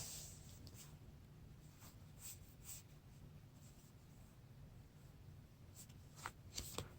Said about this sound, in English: Now we're going to go over to the Amber deck, draw a card